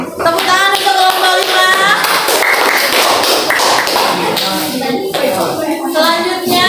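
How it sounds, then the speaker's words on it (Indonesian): A group of children in a classroom clap for a presenting group, a loud, dense, continuous patter of hands with young voices calling and chattering over it throughout. "Tepuk tangan untuk kelompok"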